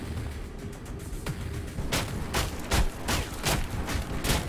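Enemy gunfire in the Metro 2033 Redux video game, with a run of sharp, fairly loud shots at an irregular pace, sounding over a constant rumbling background.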